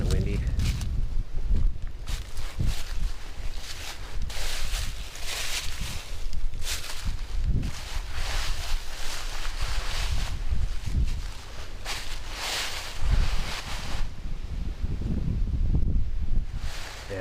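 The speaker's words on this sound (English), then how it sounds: "It's supposed to be a windy day today. It's already kind of windy." Wind gusts steadily across the microphone at a blufftop campground in Frontenac State Park, Minnesota, a constant loud rushing roar with rustling and buffeting throughout.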